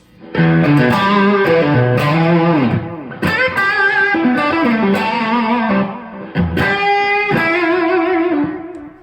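A distorted 1964 Fender Stratocaster played through a pedalboard plays a sustained, singing lead line with bends and held notes, thick with effects, loud and continuous.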